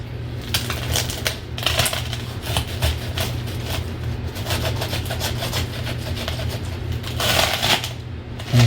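A knife cuts crosswise through crispy oven-baked pork belly chicharron, making rapid crunchy crackles and snaps close up over a steady low hum.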